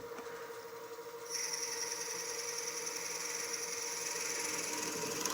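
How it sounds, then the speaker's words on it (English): A 1/4 inch drill bit in a keyless chuck bores through a wooden finial on a lathe turning at about 500 RPM, a steady grinding hiss that grows louder after a second and holds on. "And then we'll drill that all the way through to our hollowed out opening."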